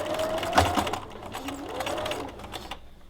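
Sewing machine back stitching on ruffle fabric, a close, fast mechanical whir with rapid stitch ticks that reverse mid-run and stop near the end.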